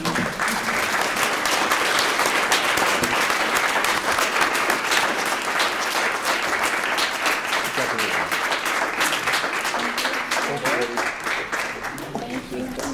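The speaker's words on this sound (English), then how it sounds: "So we now have a chance to actually applaud with our hands." An audience applauds at a League of Women Voters event in Linn County, broad sustained clapping throughout that thins slightly near the end, with some voices mixed in.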